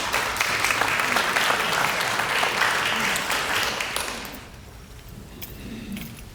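An audience at a school district's state-of-the-schools address claps in a dense, sustained burst that tapers off after about four seconds, leaving faint room noise.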